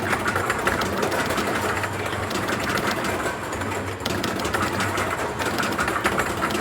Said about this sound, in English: plug the motor in so we can get this tested